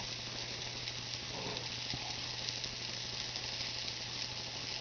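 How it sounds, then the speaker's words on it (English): Garlic sizzles in a pan for a quick pan pizza, a steady close frying hiss that runs evenly throughout with no talking. "I want this garlic stuff to burn."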